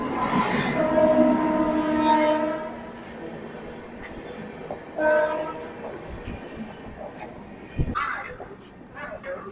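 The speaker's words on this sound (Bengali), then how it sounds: "প্ল্যাটফর্মে ঢুকছে বারো ছশো দশ মাইসুর চেন্নাই সুপারফাস্ট এক্সপ্রেস" Mysore–Chennai superfast express train pulling into a station platform, a long horn blast followed by a second shorter horn and rumbling carriages with clanks, heard amid platform noise.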